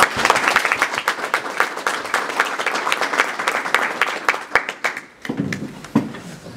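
An audience at a university debate event breaks into loud, sustained applause to welcome a speaker, dense clapping filling the room before thinning into a few scattered claps near the end.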